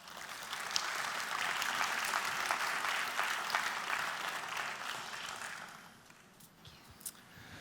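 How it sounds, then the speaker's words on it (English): A youth gathering's audience claps to welcome a student onto the stage, a full round of applause that holds steady and then thins out into scattered claps and quieter room noise near the end. "would you guys just give her a round welcome of applause?"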